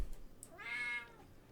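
A cat named Thiefy gives a single drawn-out meow, fairly close and clear against a quiet background, with no talking.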